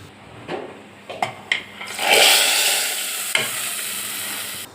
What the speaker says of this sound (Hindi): थोड़ा सा करिया पत्ता, चूल्हा ऑफ कर देती, बघार दे देंगे।